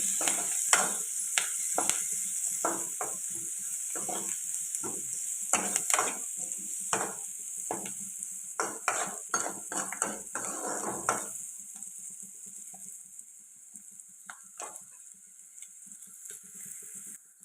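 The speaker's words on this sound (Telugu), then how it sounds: "అలాగే కరివేపాకు పచ్చిమిర్చి ఇవి ఇప్పుడు ఫ్రై చేసుకోవాలి" Curry leaves and green chillies frying in a pan, with light sizzling and repeated stirring scrapes that come in close, uneven bursts and then thin out toward the end.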